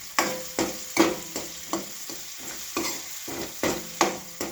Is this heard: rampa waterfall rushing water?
no